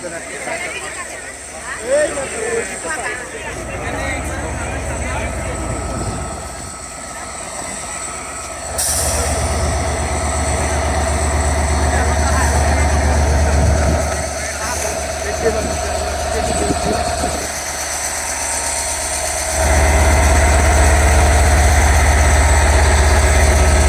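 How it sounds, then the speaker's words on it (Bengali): Deep, steady rumble of an idling Class 6603 train locomotive engine hauling the Simanta Express at Saidpur station, loud and close, swelling heavier toward the end with faint background voices. "ছেষট্টি জিরো তিন লোকোমেটিভ নিয়ে চিলাহাটি থেকে ছেড়ে আসা খুলনাগামী আন্দোলনগর ডাউন সীমান্ত এক্সপ্রেস ট্রেনটি"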